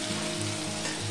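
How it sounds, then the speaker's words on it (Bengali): Snake gourd frying with poppy seeds in a pan, a steady dense sizzle running unbroken and fairly loud throughout, with no voices. "এটা চিচিংটা ভাজা হয়ে গেছে পোস্ত দিয়ে"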